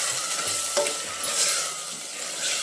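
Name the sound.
sautéing ground masala paste in oil for kurma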